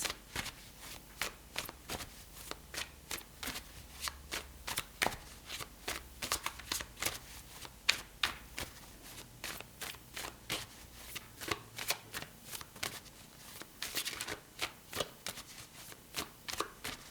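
A deck of tarot cards is shuffled again and again, giving close, crisp riffling bursts in a steady rhythm with brief pauses between them.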